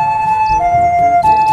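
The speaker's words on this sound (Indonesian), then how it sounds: "Mobil ambulans." A toy ambulance plays a loud electronic siren, a steady two-tone wail that steps between pitches, close up and alone.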